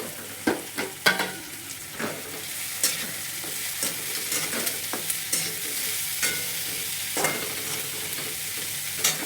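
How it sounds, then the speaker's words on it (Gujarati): Turmeric and spices for a spiny gourd (kankoda) dish sizzle steadily in a pan, with a spatula clicking and scraping at irregular moments, close by and without talk. "આટલું નાખીને આપણે 2 મિનિટ માટે એને સાતળીશું."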